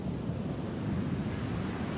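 Ocean surf breaking at Mar Chiquita beach, a steady, dense roar of waves with wind buffeting the microphone, loud and continuous, with no talk.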